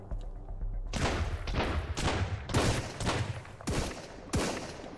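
Shotguns fire in the video game Sunkenland, a close, loud fusillade of about seven heavy blasts in uneven succession with echoing tails.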